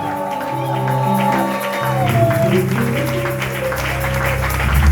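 Church congregation applauding and cheering during a sermon, a sustained wash of clapping and crowd voices over sustained music tones, steady and fairly loud throughout.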